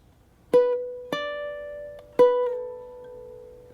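Three plucked single notes on a baritone ukulele, each ringing out with a clear decay, the last sliding and sustaining alone in a quiet room.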